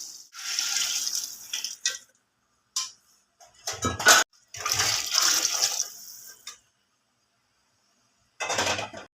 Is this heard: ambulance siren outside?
no